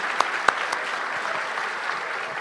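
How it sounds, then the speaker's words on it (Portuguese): People at a live fitness event applaud everyone who took part, a steady, even patter of clapping with a couple of sharp, close individual claps standing out near the start. "Uma salva de palmas para todo mundo que entrou nisso aí."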